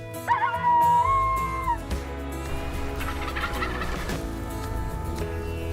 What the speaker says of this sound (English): We're in the middle of the turkeys, baby.